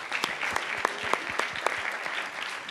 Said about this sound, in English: a big applause again to Raphael.